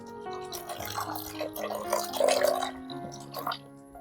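Coconut milk pours and drips into a pot of fish curry, a soft, close liquid trickle with small splashes that rises briefly in the middle and then tapers off.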